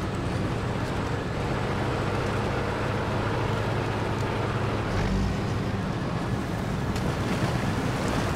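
A truck in the video game SnowRunner churns through river water, giving a constant loud rushing, splashing wash over a low engine drone. The sound is sustained and unbroken for the whole stretch.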